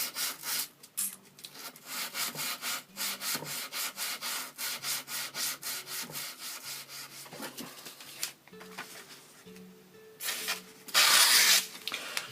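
A blade sharpened on 240 grit abrasive, with close, rhythmic rasping strokes repeated steadily back and forth, a few slightly harder, brighter passes near the end.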